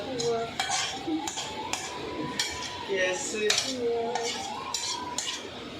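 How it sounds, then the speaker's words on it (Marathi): A spoon scrapes and knocks against a metal pot while chicken gravy is mixed into water for a chicken rassa, giving repeated close clinks and clanks in an uneven rhythm over a few seconds, with no speech. "ही ग्रेव्ही घालून चांगलं ते मिक्स करून घ्यायचं आहे"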